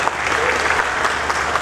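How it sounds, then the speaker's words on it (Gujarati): Audience applause at an industrial expo in Jamnagar, a steady, dense clapping from a large crowd welcoming guests, sustained and even throughout with no speech over it. "એકવાર એમને તાળીઓના ગડગડાટથી વધાવીશું."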